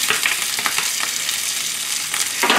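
Vegetables stir-fry briskly for a spicy jumbo shrimp dish, sizzling loudly with quick scraping stirs and small crackling bursts close by.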